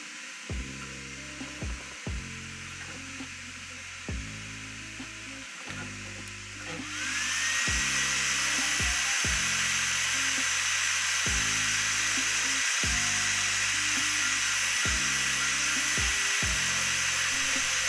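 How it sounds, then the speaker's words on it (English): A Ratrig VChonk 3D printer runs a Benchy at very high speed, giving a fast, regular mechanical chatter of stepping motors and rattling parts. Partway through, a loud steady whir joins in and continues over the rhythmic clatter. "This printer is shaking the entire table."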